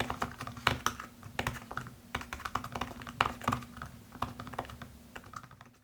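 Keys clicking on an iPad 8 Smart Keyboard case with very shallow, slightly cramped but tactile keys, a steady, close, irregular patter of soft taps with no talking.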